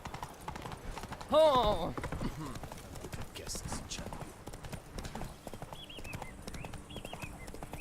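Steady clip-clop of horse hooves in The Witcher 3: Wild Hunt, a continuous trotting rhythm with a short whinny early on, heard under someone speaking and game sounds.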